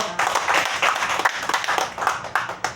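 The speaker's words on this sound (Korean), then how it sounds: "우리 김세공 목사님에게 여러분 다시 한번 감사의 박수 부탁드리겠습니다." Church congregation applauding after a sermon, a dense run of hand claps with uneven bursts throughout, fairly loud and close, with no talk over it.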